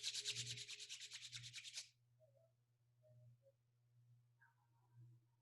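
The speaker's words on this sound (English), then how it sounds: "Rub your palms" Palms rub briskly together in a steady, fast back-and-forth swishing for about two seconds, close and fairly loud, followed by a quiet room with a low hum.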